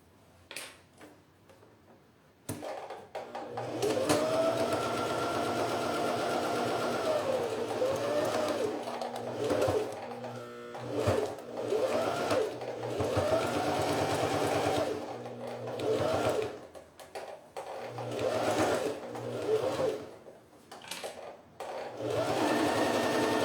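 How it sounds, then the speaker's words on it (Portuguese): A sewing machine stitches a seam on a phone holder with two zippers, running in a fast steady whirring buzz with brief pauses and speed changes, loud and close, after a quiet start. "Agora eu faço do outro lado a mesma costura."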